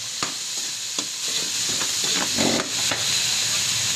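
Onion, tomato and ginger frying in a pan with garlic for a squid dish, a steady close sizzle with a few clinks of stirring.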